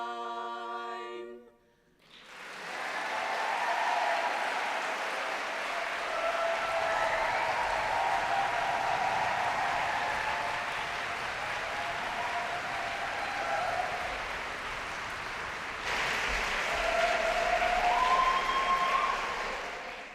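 Convention audience at Warwick 2022 whooping, cheering and applauding: after a faint musical tail, a dense wash of clapping swells up and carries on for nearly twenty seconds, with whoops and shouts rising near the end.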